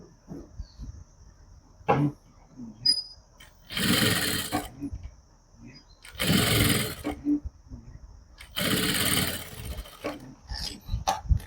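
Sewing machine stitching elastic onto the waistband of an Afghani salwar: three loud whirring bursts of fast stitching, separated by quieter pauses with fabric handling and small clicks.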